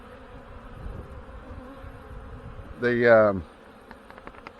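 A short, loud buzz from a bee passes close by an open honey bee hive during a spring hive check. It rises over a quiet background hum with faint insect sounds.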